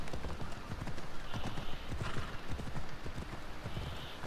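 A horse ridden through narrow streets in Assassin's Creed Odyssey makes steady, rhythmic clip-clop hoofbeats, close and loud, over a busy ambient background.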